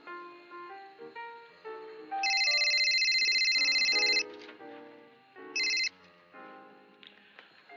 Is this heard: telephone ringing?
yes